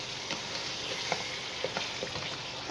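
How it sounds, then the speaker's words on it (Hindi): Beef biryani masala sizzling and frying in a pot, with a steady hiss punctuated by soft scraping taps of stirring, close and moderately quiet. "अब मैं इसको अच्छी तरह से भूनती हुई आ रही हूँ"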